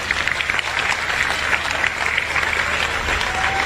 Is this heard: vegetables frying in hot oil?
no